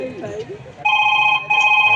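A mobile phone rings in two electronic bursts with a steady tone, the second cutting off and starting again, while a person talks beforehand in a comedy sketch.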